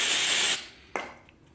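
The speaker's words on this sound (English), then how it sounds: "we're going to spray that side with the accelerant" Accelerant sprayed from a can onto the back of a glued wall panel for a DIY feature wall: a loud, steady hiss lasting about half a second that cuts off, followed by a short thump and faint handling noises.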